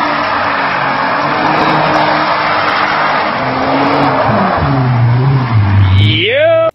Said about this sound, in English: This madman does some all-wheel drive windmill donuts in his Audi TT Quattro.